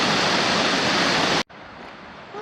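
Waterfall at Sherando Lake in the Blue Ridge Mountains, a loud, dense rushing roar up close that abruptly cuts off and gives way to a much quieter outdoor background.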